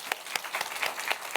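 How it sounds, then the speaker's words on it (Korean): A church congregation applauds: soft, distant clapping with a few sharper individual claps standing out, brief and fairly faint. "또 박수합시다."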